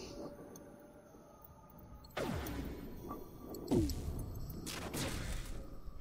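Weapons fire in the FTL spaceship strategy game: a sharp burst, then a second shot a moment later and a third cluster of blasts, each loud and close, over a faint electronic hum with no talking.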